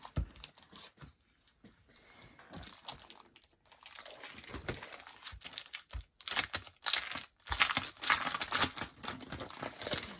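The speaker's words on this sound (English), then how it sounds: "So we'll take your pattern paper." Pattern paper is handled and crinkled close by, bursts of crisp rustling and crumpling that come and go with quiet gaps, growing busier toward the end.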